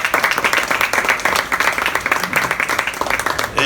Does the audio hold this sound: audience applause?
yes